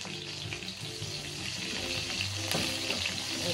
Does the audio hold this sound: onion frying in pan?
yes